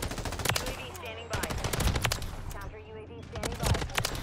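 Rapid automatic fire from an M13B rifle in the video game Modern Warfare 3, with close, sharp bursts repeating across the moment over a busy game-audio background.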